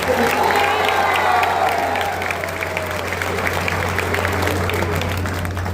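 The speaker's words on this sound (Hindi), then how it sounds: "लेकिन एक बार ताली बजाइए संजीव सिंह जी की पत्नी के लिए" Applause from an audience at a political rally, a steady dense wash of clapping over a constant low electrical hum, with cheering voices and talk mixed in throughout.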